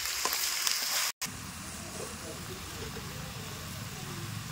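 Chicken pieces sauté in spiced curry in a pan, giving a steady sizzle with a brighter hiss at first, a brief cutout, then a softer, muffled frying sound as a lid goes on.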